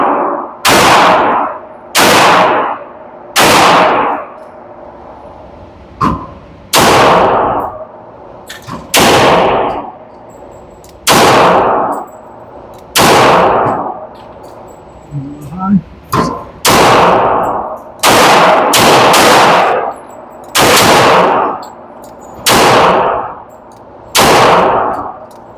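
Pistol shots at an outdoor range from a RIA 10mm, a RIA .45 ACP and a custom .40 S&W DS1911, loud sharp reports fired singly at an uneven pace, about a dozen in total, with brief voices between some shots.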